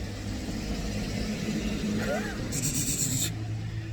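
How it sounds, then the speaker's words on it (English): A loud car passing on a road, a low engine rumble building and swelling beneath other sounds, with a brief bright burst near the end. "There's a horrible car getting ready to pass."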